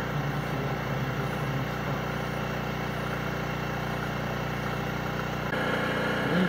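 Steady engine generator running at night to power a light trap for stag beetles on a forest road in northern Taiwan, a continuous close, loud droning hum with no pauses.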